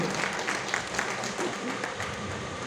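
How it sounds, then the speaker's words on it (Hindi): A family gathered at an award event in a hall, where the Iron Man award was being presented, clapping steadily together, a dense and fairly loud round of applause with some voices mixed in. "परिवार ताली बजाओ"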